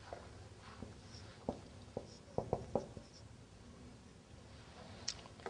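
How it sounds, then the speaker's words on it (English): A pen or pencil writes on paper in a quiet room, with faint scratching strokes and a few sharper taps clustered near the middle, soft and close. "let me write it down."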